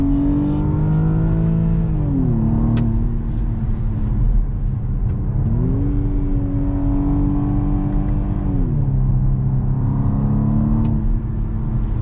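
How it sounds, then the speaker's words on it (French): A four-cylinder car engine revs through its exhaust, rising and falling in pitch several times as the rpm changes. The sound is loud, close and continuous and comes with a steady low rumble, with no talking. "Et franchement le 4 cylindres, l'échappement ils ont bien travaillé."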